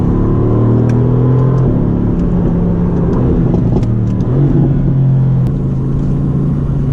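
A Mercedes-AMG GT C's 4-liter twin-turbo V8 engine revs loudly and steadily, its deep rumbling drone swelling and settling with the rising pitch of acceleration.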